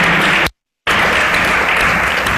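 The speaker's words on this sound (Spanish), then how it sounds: "Denle un fuerte aplauso al Señor." Loud, dense applause from a church congregation praising the Lord, broken by a brief silent gap before resuming just as strongly.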